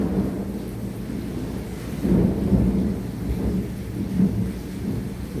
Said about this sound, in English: Hear that wonderful thunder.